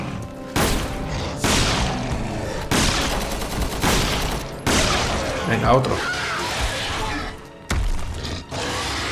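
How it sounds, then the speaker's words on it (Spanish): Several loud, heavy shotgun blasts in the video game Resident Evil 6 boom out in succession, spaced a second or two apart, with someone speaking briefly between them. "Tres disparos de escopeta."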